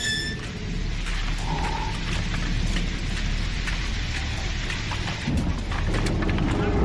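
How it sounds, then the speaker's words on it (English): Heavy rain pours down steadily with rumbling thunder throughout, a loud, dense storm bed with no break. "It poured down for 2 whole days."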